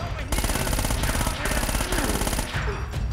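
Sustained automatic machine gun fire from the video game Uncharted: Drake's Fortune, a dense rapid rattle of shots running loud and continuous with brief dips, heavy and close throughout.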